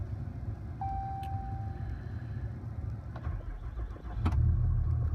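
Cummins diesel truck engine cranks and fires up on a freezing day, a steady mechanical run rising into a heavier, louder low rumble as it catches near the end.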